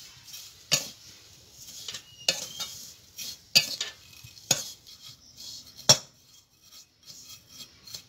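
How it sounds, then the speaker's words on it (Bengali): Vermicelli frying and being stirred in a karahi, with sharp metal spatula scrapes and clanks against the pan at irregular intervals over a faint low sizzle, close by. "আমি এগুলোকে ভেজে নেব"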